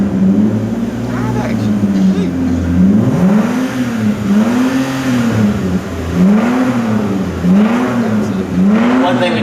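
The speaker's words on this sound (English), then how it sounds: "We should start it up, rev it up, let people feel the power that we put under this hood." Turbocharged Toyota rally car engine at an auto show, loud repeated rising and falling revs in a regular pulsing pattern, close and powerful, with voices talking underneath.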